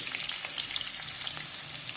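Chopped garlic sautéing in a spoonful of hot oil gives a steady, close, moderately loud sizzle with fine crackling pops throughout, no voices.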